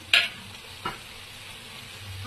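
Jackfruit and chopped tomato frying in a spiced masala, with a soft steady sizzle and a couple of brief clinks of a stirring spoon against the pan.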